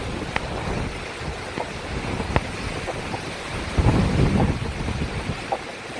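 Stormy winds of Cyclone Nisarga in Raigad blow as a continuous loud roaring gust against the microphone, with scattered bumps and a stronger surge near the middle.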